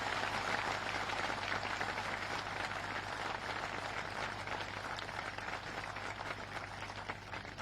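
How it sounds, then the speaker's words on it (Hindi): A large crowd at an outdoor political public meeting in Jakhauna, Sumawali, Morena claps continuously to welcome Shivraj ji, a thick, even roar of hands lasting throughout. "दमदार तालियों के साथ शिवराज जी का स्वागत होना चाहिए"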